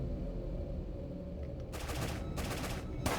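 Gunfire from an enemy AI in a Unity-made video game, two quick bursts of rapid shots followed by the start of a third, over a constant low rumbling background.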